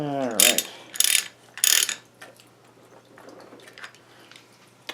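A ratchet wrench turning a 17 millimeter socket on a 1980 Suzuki FZ50 motorcycle, giving several loud, close clicking ratchet strokes in a quick row, followed by fainter small clicks.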